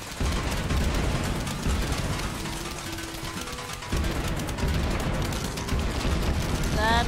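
Rapid continuous bursts of Gatling Pea fire in Plants vs Zombies, a dense crackling barrage of many shots at once that runs loud and steady throughout, with a short break near the middle.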